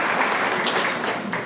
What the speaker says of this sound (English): Let's have a big round of applause for all the officials here.